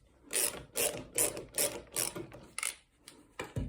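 A small screw is driven into a wooden nesting box with a run of rhythmic ratcheting clicks, about eight close, even bursts, then a short pause and a final couple of turns.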